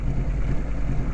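Low, steady idle of a motorcycle engine while cruise control is being installed, an even rumbling drone that holds constant and close throughout with no speech.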